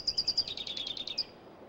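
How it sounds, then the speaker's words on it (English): A bachelor California towhee sings a short, fast series of bright chirps that speed into a trill and stop after about a second, clear and fairly close with a quiet background. "bachelor California towhees are one of the first birds to start singing in the morning"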